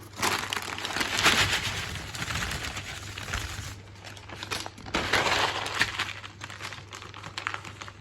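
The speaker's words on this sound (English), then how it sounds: "tip it into a resealable bag or container." Frozen grated cheese is tipped from a folded paper funnel into a resealable bag, a steady crinkly rustling and pattering that runs close and moderately loud, easing briefly midway before resuming.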